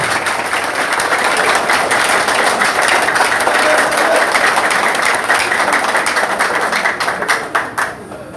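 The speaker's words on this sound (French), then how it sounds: "je vous demande encore d'applaudir chaudement" A crowd at a political party gathering applauds warmly, dense clapping sustained for several seconds before thinning out into scattered claps near the end.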